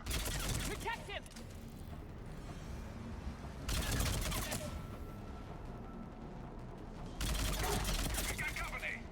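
Gunfire in the video game Mass Effect 3 comes as dense bursts of rapid shots in three loud waves, with busy game noise running between them.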